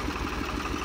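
A New Holland 5500 tractor engine with a holed silencer runs steadily with a rotavator attached, a loud, continuous close rumble with no voices.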